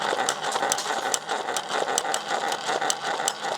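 A heavily modified Nerf Zombiestrike Rapidstrike blaster, built from a DrFlux kit, fires at targets with a steady, rapid mechanical clatter of evenly spaced clicks and a whirring drive that runs throughout at moderate loudness.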